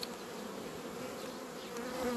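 Honey bees buzz steadily at an open hive during queen rearing, a dense, continuous hum close by that holds level throughout, with no talking.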